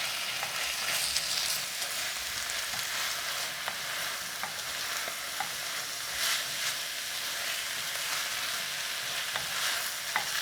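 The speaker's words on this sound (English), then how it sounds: "let's go ahead and stir some a little bit more" Zucchini stirred into a spicy silken tofu soup in a very hot clay pot, a steady sizzle and bubbling with intermittent scraping stir strokes throughout, no talking.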